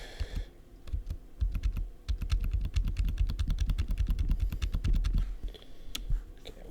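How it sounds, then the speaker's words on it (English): Rapid typing on a loud computer keyboard, dense clicking keystrokes in steady bursts, close and prominent throughout with brief pauses near the start and end. "I do apologize if my keyboard's a little bit loud."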